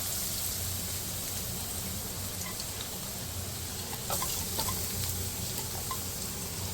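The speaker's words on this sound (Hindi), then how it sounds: "इसको थोड़ा सा फ्राई करेंगे, कलर आ जाए, खुशबू आ जाए।" Chopped garlic frying in about a tablespoon or two of oil for kung pao chicken, giving a steady, dense sizzle close by with a few brief stirring scrapes and crackles, no voices.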